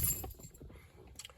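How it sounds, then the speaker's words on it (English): Car keys jangle with a brief metallic clink at the start and again near the end, close and fairly quiet, with no talk. "I just took the keys out the car"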